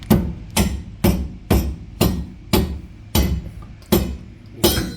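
A hammer strikes metal while a sway bar is knocked free from its end links during a Ford Mustang angle kit install: nine sharp, evenly spaced, ringing blows about half a second apart, loud and close.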